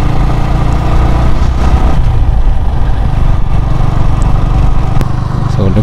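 Yamaha R15 V3 motorcycles riding together in a group on a hill road, a loud continuous engine drone with wind buffeting and no distinct revs.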